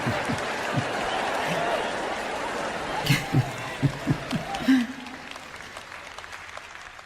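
Audience applause at a church sermon, a crowd clapping for a few seconds, then scattered claps and laughter under a speaking voice before it settles.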